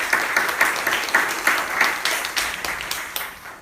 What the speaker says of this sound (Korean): 영광의 박수 한번 올려드렸으면 좋겠습니다